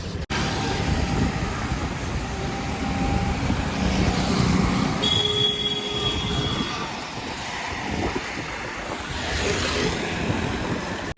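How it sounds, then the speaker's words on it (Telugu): Heavy highway traffic streams past a cyclist riding toward Ladakh, with cars and trucks rumbling by close and loud in an unbroken roar and a few louder passes swelling and fading. "హైవేలో కూడా ట్రాఫిక్ అసలు బీభత్సంగా ఉంది."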